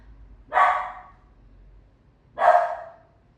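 A dog barks twice, two loud, clear single barks about two seconds apart with quiet in between.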